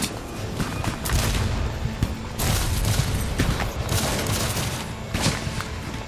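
Union musket volleys crashing out in a Civil War battle at Gettysburg, dense bursts of rattling gunfire with heavy low thumps, loud and close, coming in waves with brief lulls.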